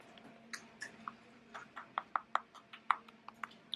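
Crisp, crackly crunches of Korean fried chicken being chewed come in quick irregular bites, close and quiet, each one a sharp snap against a hushed background.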